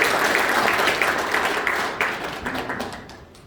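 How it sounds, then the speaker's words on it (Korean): An audience applauds at a Korean political event, a dense, steady wash of clapping that starts loud and gradually fades over a few seconds. "큰 박수 부탁드립니다."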